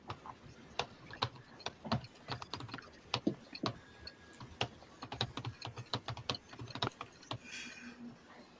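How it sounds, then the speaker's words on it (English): Someone pounds hard on a computer keyboard during a live podcast-style show, with sharp, uneven clacks spread across the whole stretch, fairly close and a little distant in tone, and faint voices now and then in the background. "Rich is really pounding that shit right there."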